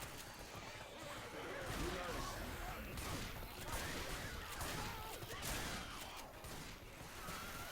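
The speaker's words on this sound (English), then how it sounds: "Would you mind not shooting me," Rapid gunfire fills a Left 4 Dead 2 match, with continuous dense shooting and chaotic game noise layered throughout, loud and sustained from start to finish.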